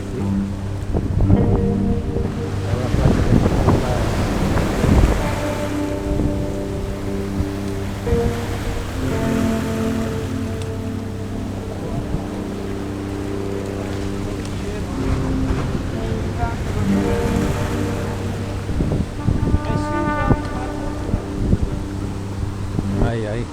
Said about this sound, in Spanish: Ahora está brava, hoy el mar.